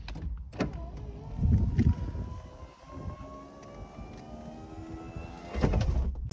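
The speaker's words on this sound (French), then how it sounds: "Et on a aussi le capotage électrique." The electric soft top of a Honda S2000 runs open, a steady whirring electric motor hum lasting several seconds, bracketed by mechanical clunks at the start and finish, close by.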